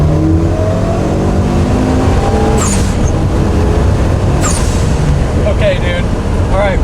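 A 550 hp E85-fuelled Evo 9 accelerating hard in a 40 mph roll race from 3,000 RPM, giving a loud, constant engine and road roar heard from inside the car, with short chirps and bursts along the way while people talk.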